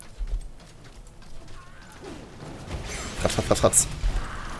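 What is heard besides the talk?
horse mount galloping in Heroes of the Storm video game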